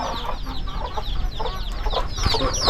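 Chickens and small chicks cluck and peep together in a busy, continuous chorus at close range, with high chirps scattered over the softer clucking.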